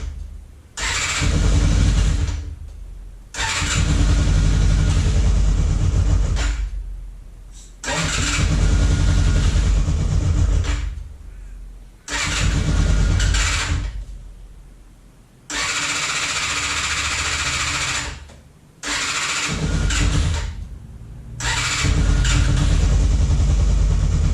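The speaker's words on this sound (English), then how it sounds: "So it'll start on full choke, but then you can hear it's just idling over." Motorcycle engine started on full choke, cranking and catching in repeated loud bursts with short gaps between them, then settling into a steady close idle.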